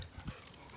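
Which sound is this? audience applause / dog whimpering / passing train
dog whimpering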